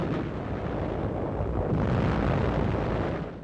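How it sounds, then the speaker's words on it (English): Artillery shells strike Japanese hilltop positions during the Okinawa fighting, a continuous loud rumbling barrage of blasts that swells slightly midway and fades at the end, with no voices. "Artillery shells score direct hits on Japanese positions"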